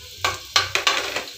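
Garlic dropped into a hot pan for Filipino-style sautéed mussels, giving bursts of crackling sizzle with stirring scrapes, several sharp onsets over a steady low hiss, close and fairly loud.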